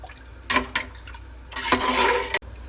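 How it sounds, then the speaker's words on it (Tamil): Water in a pot with chicken drumsticks heats toward a boil for biryani, giving bursts of bubbling, rushing watery noise that swell and fade, then cut off abruptly, close and moderately loud. "தண்ணி கொதிக்க ஆரம்பிக்குது."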